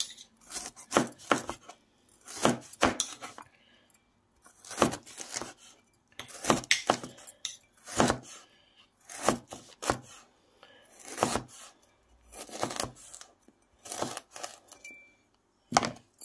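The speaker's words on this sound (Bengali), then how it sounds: "একটু প্যারাচ করে কেটে নিচ্ছি, তাহলে পিসগুলো একটু বড় বড় লাগে" A knife chops bitter gourd (karela) on a cutting board in short bursts of sharp, crisp strikes separated by brief pauses. The chopping is close and clear, with no voices.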